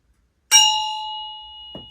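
A resonator spider cone from a Regal guitar is struck and rings out, one bright metallic clang whose pure tones sustain and slowly fade, followed by two faint taps near the end.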